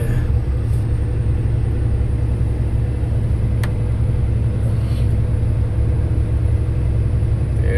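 A vehicle engine labors up the Thoppur hills in third gear at about 1500 rpm and 20 km/h, a steady, loud, close low-pitched drone and rumble that holds unbroken throughout with no talking.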